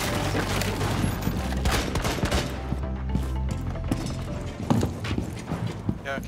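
Gunshots in Rainbow Six Siege on the Coastline map, fired to shoot out a window, sounding as sharp cracks over a busy, dense game-sound mix while players talk.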